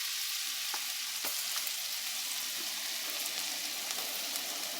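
Garlic fries in butter in a pan, a steady dense sizzle close by with a few faint scraping stirs, no talking.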